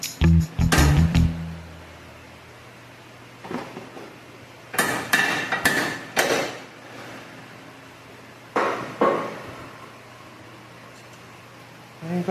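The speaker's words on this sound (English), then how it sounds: "And then we can hit that one with a hammer." A hammer strikes the spindle ball joint on a 2009 Honda Civic to seat it flush. Sharp metallic blows come in irregular clusters, several quick hits then pauses, close and loud in a quiet garage.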